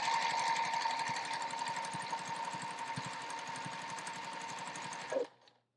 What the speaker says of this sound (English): And then I'm just gonna sew my 1/4 inch seam.